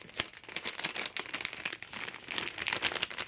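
Crinkling of a protective plastic covering over a decorated folded-paper clip, a dense run of close, crackly rustles and crunches lasting throughout with no talking.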